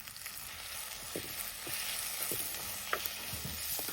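Two medium onions and two tomatoes fry in a hot pan, giving a steady, close sizzle with a few soft stirring clicks and scrapes. No one speaks.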